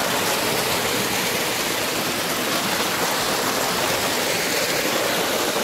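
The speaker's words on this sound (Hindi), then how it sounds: "यह है झरना।" Waterfall at a lake, a steady dense roar of falling water, loud and continuous with no pauses or voices.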